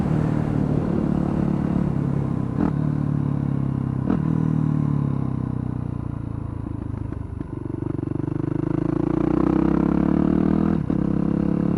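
A motorcycle engine revs loudly and close up while shifting gears without the clutch. The drone climbs steadily and breaks into brief, sharp dips at each gear change, about four times in the passage.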